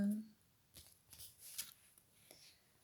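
Tarot cards being shuffled in a quiet room: a few soft, brief riffling and sliding card sounds, faint and close, with short pauses between them.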